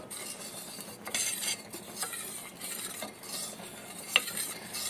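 Macaroni payasa, a sweet milk pudding, being stirred with a metal spoon after custard powder mixed in milk is added, giving repeated scraping and clinking strokes against the pot at a steady pace, close by with no voices.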